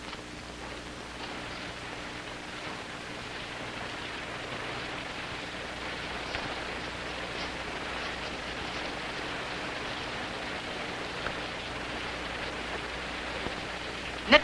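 Steady rain falls in a continuous hiss of drops on surfaces, even and moderately loud throughout with no voices, ending on a brief sharp knock.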